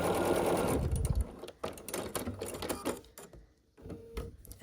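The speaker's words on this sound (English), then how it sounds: "sew these 2 small half square triangles onto the larger" A sewing machine runs in close, loud bursts as it stitches small half-square triangles onto a larger unit for a scrappy sampler quilt block, with brief pauses between the runs of stitching.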